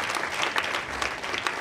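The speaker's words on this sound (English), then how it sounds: "Let's clap" Short burst of crowd clapping for high school learners at a Vhembe District GIS Week exhibition, moderately loud with a few individual claps standing out.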